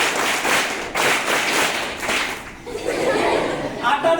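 Students at a government residential secondary school's Constitution Day assembly clap together in steady, evenly spaced bursts about once a second, with a voice speaking between the claps.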